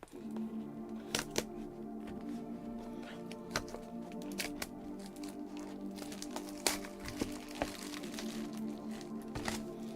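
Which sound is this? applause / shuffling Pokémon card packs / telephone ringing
shuffling Pokémon card packs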